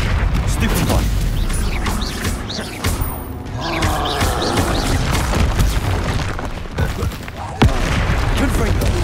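Confringo blasting spell in Hogwarts Legacy, a fiery magical blast bursting amid dense game combat noise, with sharp booms around the middle and near the end, mixed with ongoing talk.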